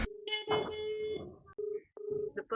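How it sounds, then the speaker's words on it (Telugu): A phone dialing a customer during a delivery round: a steady electronic tone repeats in several pulses with short gaps, like a call ringing out, clear and close. "కస్టమర్ ఫోన్ చేస్తాను, ఫోన్ ఎత్తలేదు."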